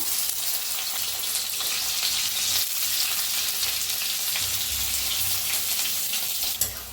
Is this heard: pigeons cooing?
no